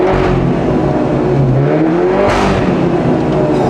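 A BMW G30 530i with its B48 four-cylinder engine revs loudly and steadily through a Valvetronic exhaust, the drone climbing and falling close by, with no voices.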